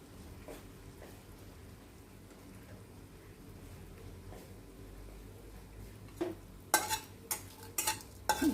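Panch phoron spices (cumin, fennel, mustard and other seeds) sizzle in hot oil for a fish tok curry, a low steady crackle that breaks into several loud bright bursts of popping and spitting near the end.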